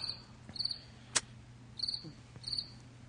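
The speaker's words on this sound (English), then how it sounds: "More crickets, huh?" Crickets chirping as a sound effect, short high trills repeating in a loose rhythm at moderate volume over a low steady hum, with one sharp click in between and no talking.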